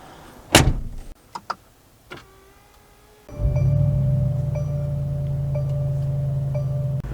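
A door latch clicks and thuds on a 2022 Mercedes G63 G-Wagon, a few sharp knocks followed by a steady cabin chime and a low hum once the door opens.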